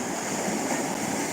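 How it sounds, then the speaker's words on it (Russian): Black Sea waves wash steadily onto the shore, a continuous broadband surf roar with no distinct breaks, fairly close and alone without voices. "вот тут, кстати, волны классно набегают"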